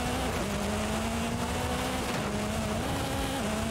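Ford Focus Hoonigan race car with a tune, racing in Forza Horizon 5: a steady, loud engine drone with shifting pitch through gear changes, continuous and close throughout.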